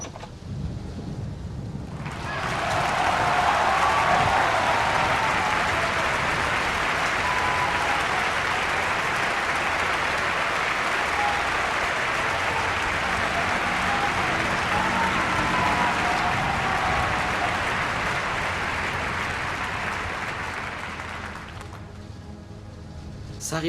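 Sustained studio audience applause from David Lynch's Rabbits, a dense even roar of clapping that swells in, holds steady for about twenty seconds, then fades out.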